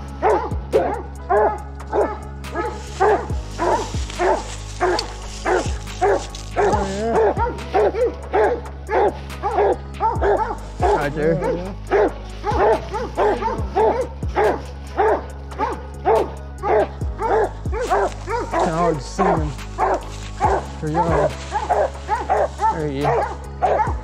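A Walker coonhound barks rapidly and repeatedly, close by, with whining and yips mixed in, while someone talks over the barking.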